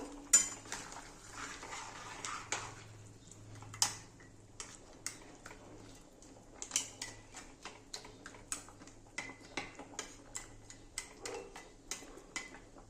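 A utensil stirs katla fish heads in a pot of boiling curry, making a steady run of light metallic taps and scrapes against the pot, with faint bubbling underneath and no talk.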